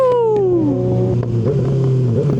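A Kawasaki Ninja 636 sport bike's engine roars loud and close at high revs, its pitch sliding down and then holding steady as it pulls hard.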